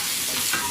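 Fish frying and being stirred in a pan at an outdoor lakeside food stall, a steady close sizzle with scraping stir strokes running through the short stretch, no talk.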